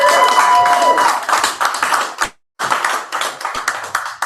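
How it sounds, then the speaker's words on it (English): Audience at a weekly live poetry night in a cafe clapping for a poet, a dense round of applause with scattered sharp claps that stops abruptly, pauses, then starts up again. "let's have one more round of applause for Earl"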